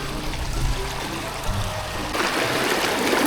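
Fresh stream water on a farm flows steadily and close, making a continuous rushing trickle with no break through the whole clip.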